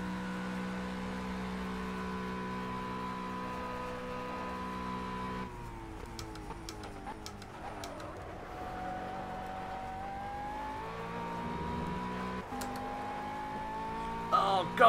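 A McLaren race car engine in the Project CARS racing game, a steady near droning whine that drops in pitch, wavers through gear changes and climbs again, with a faint voice briefly over it.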